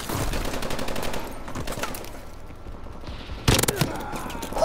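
An MDL Royalty weapon in Call of Duty Advanced Warfare is hip-fired, rapid close launches over busy game noise, ending in a sharp loud burst.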